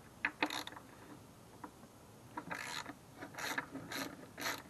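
A socket wrench ratchets on rusted bolts of a mower deck, giving several short bursts of quick clicking, close and fairly quiet, with pauses between them.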